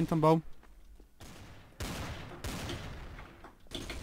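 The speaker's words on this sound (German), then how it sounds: "Die schießen auf mich." Gunfire in the video game Trouble in Terrorist Town, several sharp bursts of shots in quick succession at varying distances, with a voice talking briefly at the start.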